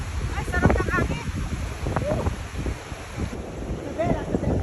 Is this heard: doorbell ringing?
no